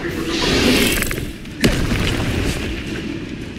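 A fire spell cast in the video game Hogwarts Legacy: a sustained whooshing roar with a sharp burst partway through, then a continuing rumbling flare, loud and close.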